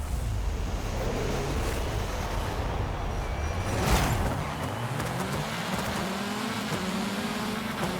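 In Forza Horizon 5, a rear-wheel-drive car's engine drones and revs continuously, pitch rising and falling with gear changes, over a wash of wind and tire noise at a steady, fairly loud level.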